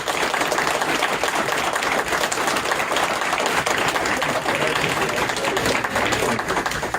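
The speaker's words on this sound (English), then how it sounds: "Let's give them a great big round of applause." Panel audience at a horror convention giving a big, steady round of applause, dense continuous clapping throughout at full volume.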